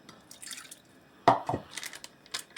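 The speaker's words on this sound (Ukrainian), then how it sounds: "Додаємо ми до пюре нашого воду." Water is poured into green apple puree while making apple marshmallow. A short, quiet splash lands midway, with faint drips and light kitchen clinks around it.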